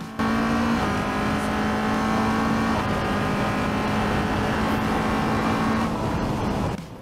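A race car at full throttle on a Scottish circuit during a 2018 Super Lap Scotland time-attack round, its engine holding a loud, steady high-revving drone as it drives from Clark Corner toward the hairpin, then easing off near the end.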